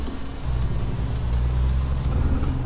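A truck engine in American Truck Simulator rumbles in a deep, steady low drone during a night drive, swelling slightly after the start and holding even and close with no voices.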